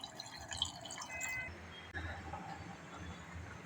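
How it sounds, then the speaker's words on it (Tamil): Hot water is poured over dried fish in a village kitchen, making a soft, steady pouring and trickling sound close by, fairly quiet against low background noise. "கொஞ்சமாக சுடு தண்ணி ஊற்றி ஒரு 10 நிமிஷம் அப்படியே வச்சிடலாங்க."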